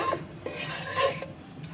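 Bay leaves in hot oil being stirred in a pot while making carrot pulao, giving a continuous scraping, rasping stir over a faint sizzle, close by and with no talking.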